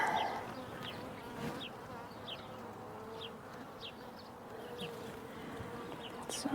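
Honey bees buzz steadily at an open hive during an inspection, a dense close hum with individual bees whizzing past near the listener, no speech over it.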